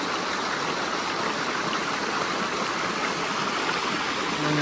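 A creek in Ben Lomond National Park, Tasmania flows in a steady, close, broadband rush of water that holds an even level throughout, with no talking.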